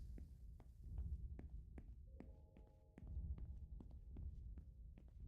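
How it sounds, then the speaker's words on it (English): A steady heartbeat from a video game, soft and muffled, throbbing in a regular low rhythm over a faint hum, with light clicking taps spread across the beats. "Is that a heartbeat?"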